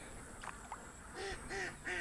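Ducks quacking near a duck house in a flooded village area, three short nasal quacks in quick succession at moderate distance over faint background noise.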